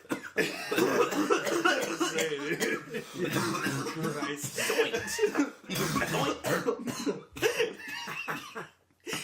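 Repeated harsh coughing fits close by, mixed with throat clearing and some chuckling and voices in between.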